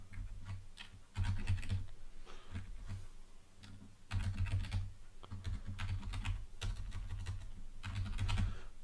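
Steady typing on a computer keyboard while a controller handle is set up, dense clattering keystrokes in bursts with brief pauses, close and moderately loud, no voices.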